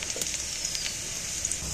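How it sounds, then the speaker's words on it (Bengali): Onions frying in oil in a pan for a home-style jackfruit curry: a steady, close hissing sizzle with small crackles and pops, moderately loud and alone. "এবার পেঁয়াজগুলো ভাজা হয়ে গেছে।"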